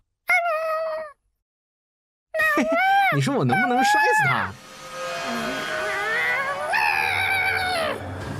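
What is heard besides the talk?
kitten meowing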